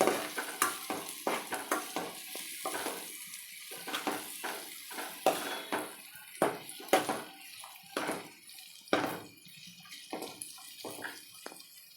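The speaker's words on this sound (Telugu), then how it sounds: "ఇవి కూడా కొంచెం ఫ్రై అయ్యే వరకు ఉంచుకోవాలి" Ingredients for capsicum rice fry in a pan with a soft sizzle, broken by irregular scraping and clinking stirs of a utensil, close and moderate in level, with no talking.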